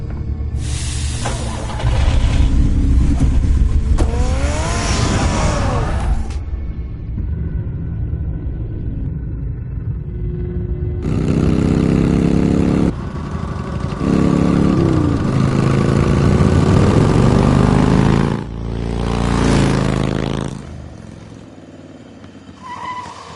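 Batman's car in Batman: The Telltale Series revs and roars through several loud driving passages with pitch sweeps and rumbling, separated by quieter gaps.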